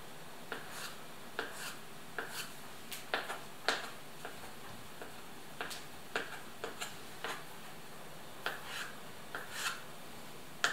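Kitchen knife cutting fish salad ingredients on a board, producing soft, evenly spaced chopping taps that are faint and close, heard alone without talk.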